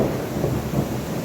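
Heavy rain pours steadily during a night thunderstorm with strong wind, a dense, loud wash of rainfall with low rumbling beneath, continuous and close.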